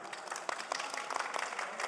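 Audience at a startup investment conference claps as the next presenter comes on stage, a brief, fairly faint patter of scattered hand claps in a large hall.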